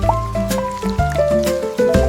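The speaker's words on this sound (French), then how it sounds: "Les gouttes de pluie frappent mon chapeau au rythme de la musique." Raindrops plink and drip onto a hat in a quick rhythm, mixed with a bright musical backing in a children's rhyme.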